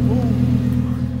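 A Lamborghini STO with a modified exhaust idles as a loud, steady low rumble, close and continuous for a moment.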